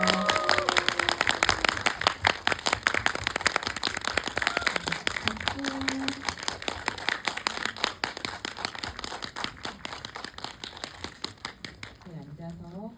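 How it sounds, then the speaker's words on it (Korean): An audience at an indie film talk event claps to welcome the actors and director as guests, a long, dense run of many hands that slowly thins, with a few voices breaking in near the end. "큰 박수로 맞이해 주세요."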